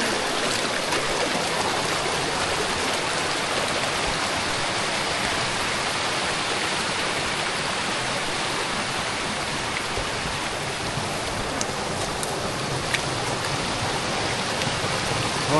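Cold water flowing strongly in a garden, likely from a tap, a continuous loud broadband rush and splash that stays steady throughout with no voices.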